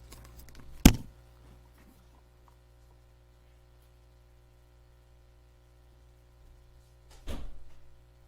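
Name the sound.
door being closed and locked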